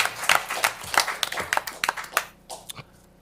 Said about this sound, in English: Let's give our first responders a round of applause.